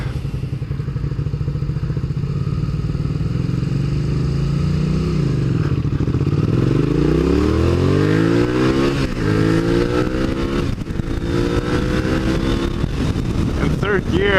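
Motorcycle ride with the engine revving up through the gears, pitch sweeping up, dropping at a shift into third gear and climbing again, loud and steady with wind rush throughout.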